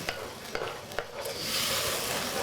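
Palm sugar and chili sambal are stirred in a frying pan, with a few spatula scrapes and clacks at the start, then a steady soft sizzle building up as frying continues.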